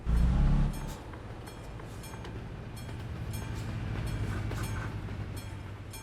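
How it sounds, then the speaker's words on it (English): A train in the Euro Truck Simulator 2 video game rumbles past at a crossing, a loud low thump at first, then a steady rolling roar with faint clicking wheels, with no talking. "Oh, I'm going to wait for the train."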